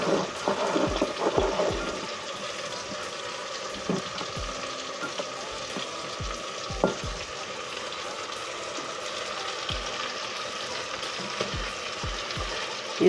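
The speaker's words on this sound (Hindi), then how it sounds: "डाल के इसको भी अच्छी तरह मसालों को भून लेंगे" Steady sizzling of spices and mutton frying in a hot pan, with occasional scraping stirs and soft clinks of a utensil against metal, close by and with no talk.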